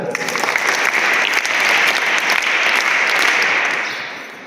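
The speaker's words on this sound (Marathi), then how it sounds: "टाळ्या वाजवा सर्वजण" An audience at a village gathering honouring a sarpanch applauds steadily for several seconds, dense sustained clapping that swells slightly then begins to taper off.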